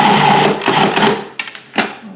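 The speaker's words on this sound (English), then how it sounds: "what I'm going to use is a food processor, and this makes it so easy" A food processor whirs loudly through chickpea salad ingredients for a vegan no-tuna salad, running steadily before breaking into short pulses with brief gaps.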